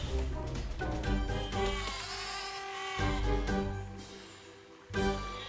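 Sheep in the video game Besiege bleat repeatedly in a tangle of overlapping calls, some closer and louder, with a fresh loud bleat near the end.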